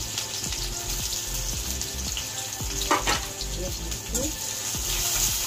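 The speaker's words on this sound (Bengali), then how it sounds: "পেঁয়াজ দিয়ে দিলাম" Onions fry in mustard oil with black cumin in a karahi on a gas stove, giving a steady close sizzle and hiss broken by repeated scraping stirs at a loose rhythm.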